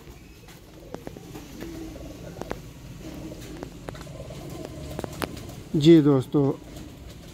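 Breeder pair of Ali-wale pigeons coo in two short throaty bursts near the end, heard over someone speaking and light background ticks and noise.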